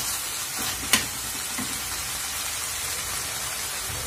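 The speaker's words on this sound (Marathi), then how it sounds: "तर आता आपण ही भाजी आपण यात घालणार आहोत आणि छान असं परतून घेणार आहोत." Leafy greens sautéed in a pan with onion and dal give a steady, close hiss of frying, broken by a sharp clink of the spoon about a second in.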